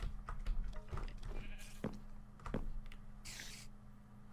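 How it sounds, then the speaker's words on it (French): Sheep bleating in the Minecraft video game, a few short blocky bleats mixed with other in-game clatter and background noise, no talking. "J'entends un mouton."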